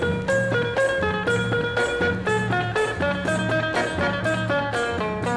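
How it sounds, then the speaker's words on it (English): Thai funk and underground rock from the 1960s and 70s plays at a steady pulse, with a rhythmic backing groove and a prominent melodic line, loud and continuous with no voices. "like Thai funk and underground rock music"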